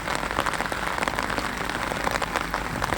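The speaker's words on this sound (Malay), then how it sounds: "hujan agak lebat juga ni tak berhenti-henti hujan ni" Heavy rain pours steadily and close, a dense hiss of drops drumming on surfaces with no break, at a spot by the water while fishing.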